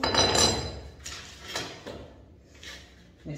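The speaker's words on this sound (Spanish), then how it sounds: "Ahorita el martillo, ojo." Hammering on a wooden kitchen cupboard being built against a wall; a few sharp strikes with clinks and knocks, loud at first and then fainter, spaced about a second apart with no talking.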